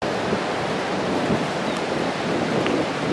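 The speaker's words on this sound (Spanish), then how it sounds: "Ahí viene la ola del barco, va." A boat's wake rolls in as a wave and washes up the beach at Montañita, Ecuador, making a steady, full rush of surf mixed with wind noise, with no one speaking.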